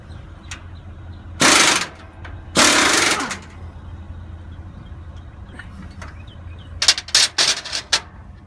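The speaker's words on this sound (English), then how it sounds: "Removing the last of the bolts for the bracket for the shock and airbag combination" Bolts being removed from the shock and airbag bracket on a Prostar truck cab air suspension: two loud sustained bursts of a power tool, then a cluster of short rapid bursts near the end, with faint clanks in between.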